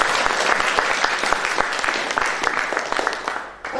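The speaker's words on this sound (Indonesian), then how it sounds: "saya pengen saudara kasih aplaus dulu buat pelayan-pelayan multimedia kita" A church congregation applauds the multimedia volunteers during an online and onsite GPdI youth service. Loud, dense clapping from a crowd fills the room and then tapers off near the end.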